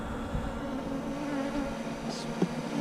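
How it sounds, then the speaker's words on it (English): Honey bees buzz steadily inside a nucleus hive during installation of a first nuc, a close, continuous drone with a faint higher whine near the end and no talking. "looks like a very nice nucleus of bees"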